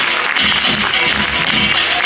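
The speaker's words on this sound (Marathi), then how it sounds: "टाळ्यांचा गजर झाला पाहिजे" An audience at an award ceremony applauds, a loud, dense wash of clapping with a few sharper individual claps that holds steady throughout.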